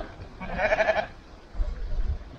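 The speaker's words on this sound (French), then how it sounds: "Les moutons qui arrivent là." A flock of sheep arriving along a mountain trail in the central Pyrenees, with a clear bleat rising briefly near the middle, then low rustling and trampling of moving animals.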